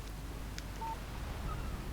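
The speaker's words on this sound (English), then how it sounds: "Text message from Barry." A phone text message alert in the Alan Wake video game sounds as two short, soft electronic chirps, quiet against a low background hum.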